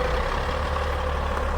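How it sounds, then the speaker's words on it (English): A truck engine rumbles steadily at a firewood-processing yard in Ohio, a constant low heavy drone with no other sounds over it. "And the truck is leaving."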